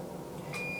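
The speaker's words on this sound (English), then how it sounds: "That was our oven beeping." Kitchen oven beeping after preheating to 350 degrees, one brief high electronic tone over a steady low background hum.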